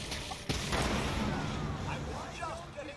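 Sniper gunfire in Fallout 4, played in a heavily modded survival mode, with a sharp crack early on and another soon after, set against a dense, steady din of battle noise.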